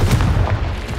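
A Confringo spell blast in Hogwarts Legacy lands as a single short, heavy boom, loud and close with a quick rumbling tail.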